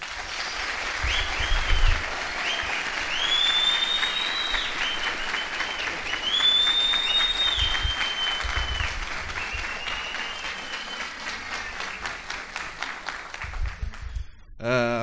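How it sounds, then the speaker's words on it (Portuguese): Audience applause at a public talk in Brazil, a sustained wash of clapping and some cheering lasting about fifteen seconds, loud and steady before tapering off at the end. "Uma salva de palmas."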